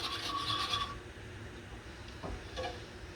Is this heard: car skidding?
no